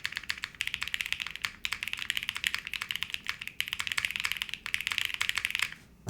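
Rapid, continuous typing on a Fuji75 prototype mechanical keyboard with PBT keycaps and BCP switches on the alphas, close and crisp, with brief pauses between bursts of keystrokes.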